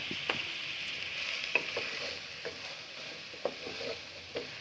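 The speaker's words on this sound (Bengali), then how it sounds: "একটু ভেজে নিচ্ছি" A rice and spice mixture with homemade garam masala frying in a pan for biryani: a constant soft sizzle with a few light scrapes as it is stirred, close and fairly quiet, no voices.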